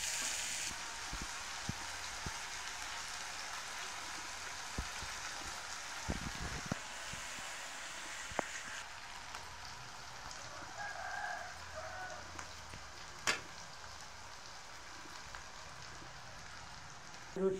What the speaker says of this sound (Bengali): এদিকে এই আলুগুলোও ভাজা হয়ে গেছে